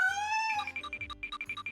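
Several meows from pet cats, opening with a long drawn-out meow and followed by a rapid run of short, fairly close meows and chirps, with no talk.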